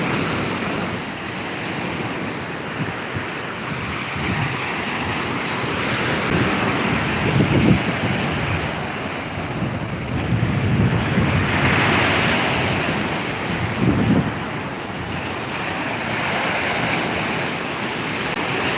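Open-water waves rolling beneath the Mackinac Bridge, a broad continuous wash with gentle swells and steady wind noise, no talking.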